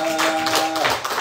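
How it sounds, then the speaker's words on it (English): Applause for a woman during a live Sunday morning church service at the Oak Centre, steady broadband clapping filling the whole moment, with faint sustained musical tones beneath. "Give her a big hand"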